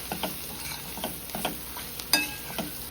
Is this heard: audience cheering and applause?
no